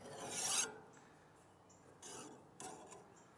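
Metal file rasping along a garden hoe blade: one long loud stroke followed by two shorter, lighter strokes, close up with no voices.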